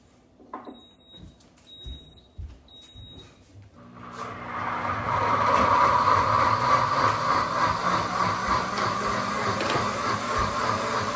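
A kitchen appliance running on its grind setting during gluten-free meal prep. A few short electronic beeps come first, then a loud, steady, close whirring grind starts and continues to the end.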